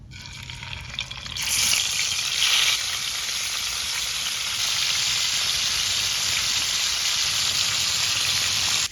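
Tilapia pieces frying in hot oil in a wok, a loud continuous sizzle that flares up sharply and then settles into a steady, hissing crackle with no talking.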